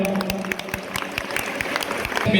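An audience at a government high school award ceremony honouring LSS scholarship winners breaks into steady applause, dense overlapping hand claps carrying on for the whole stretch and swelling slightly at the end.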